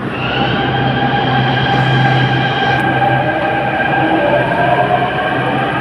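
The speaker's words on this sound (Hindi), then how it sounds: "तो भाई हमारी निकल गई मेट्रो" A Delhi metro train pulls out of a station, its loud, steady electric whine and layered rising motor tones running continuously with a low rumble underneath and no voices.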